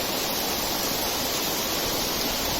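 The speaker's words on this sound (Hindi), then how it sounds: "अब देखिए बारिश चालू हो गई और ये नाला भी बहना शुरू हो गया।" A hill stream in Rajaji National Park running after monsoon rain, a continuous broad rushing wash of water that holds loud and unchanging from start to finish, with no voices.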